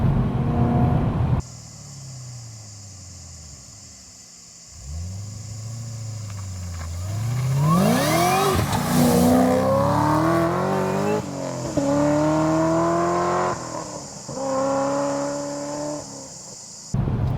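A 700+ whp manual Dodge Charger GTS accelerates hard, its engine note climbing steeply through several gear pulls with brief drops at the shifts, loud and close from inside the car.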